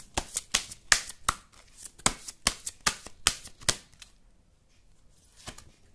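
Tarot cards being shuffled in a quick run of crisp, close riffling snaps over about four seconds, then a pause and one last faint flick, with no talking.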